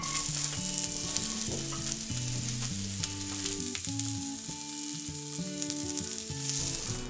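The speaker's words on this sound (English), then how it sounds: "So now I'm going to add the sliced onion to the pan." Sliced onion sizzles in smoking oil in a pan, a constant hiss of frying beneath prominent background music throughout.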